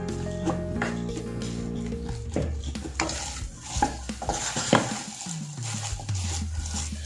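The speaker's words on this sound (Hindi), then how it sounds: "मावे को हमें लगातार चलाते हुए भूनना है, जिससे ये पैन के बॉटम से चिपक कर जल ना जाए।" Khoya (mawa) being stirred and roasted continuously in a pan for sesame laddoos, with repeated scraping strokes of a spoon on the pan bottom over a soft sizzle.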